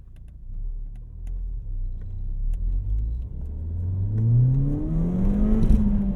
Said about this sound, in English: There's wheel spin.